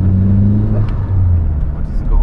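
A SEAT Arosa with a 1.8T engine and GT28 turbo pulls away, its deep engine drone loud and close from inside the car, with people talking over it.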